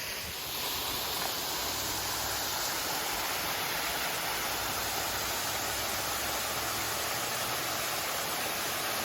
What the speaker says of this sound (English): And the waterfall you see here is the Bon Ami waterfall.